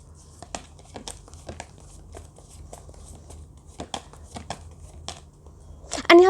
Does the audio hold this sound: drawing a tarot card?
yes